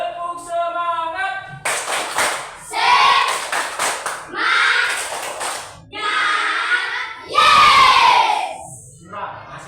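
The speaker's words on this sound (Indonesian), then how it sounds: "Baiklah, tepuk semangat." A group performs a rhythmic spirit clap, tepuk semangat, in sharp synchronized bursts separated by short pauses, mixed with loud group shouts and chants, while a voice leads between the rounds.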